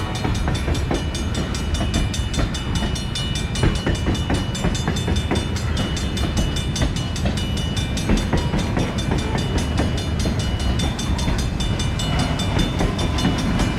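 A streetcar rolls down a New Orleans street in the early morning, a steady loud rumble of wheels on rail with rhythmic clicking and clattering, close by and sustained throughout.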